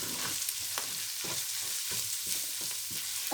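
Spices frying with minced mutton keema in a pan, a continuous soft sizzle with regular stirring scrapes every half second or so, close and steady with no talking.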